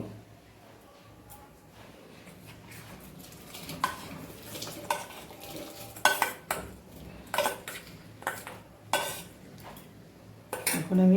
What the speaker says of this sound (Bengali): দুধ ফুটে গেছে, এখন আমি চাল দিয়ে দিব।